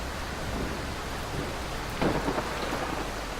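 Steady rain pours down in a video game thunderstorm, with a dense, constant hiss. A brief low rumble swells partway through, fitting distant thunder. No voices are heard.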